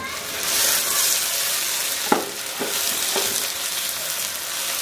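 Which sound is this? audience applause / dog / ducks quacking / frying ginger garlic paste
frying ginger garlic paste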